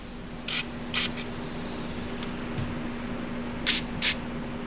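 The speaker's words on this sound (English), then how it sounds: "A little bit of brake clean." Several short bursts of brake cleaner aerosol sprayed into a threaded hole during a blow-through carburetor power valve build, each hiss brief and fairly close, heard alone over a steady low hum.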